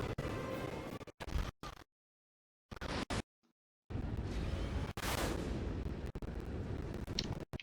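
Shooting and blasts in the LEGO Batman 2 video game, loud booming rumbling bursts broken by abrupt silent gaps, then a long sustained stretch of heavy firing noise, with no talk.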